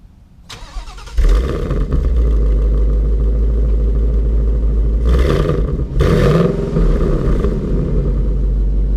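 A 2018 Ford Mustang GT with active exhaust in quiet mode cranks and catches, then settles into a steady, low rumbling idle that stays fairly subdued, with a brief dip midway.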